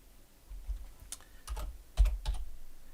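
Typing on a computer keyboard while coding in C#, a few short clusters of quiet key clicks close by, no talking.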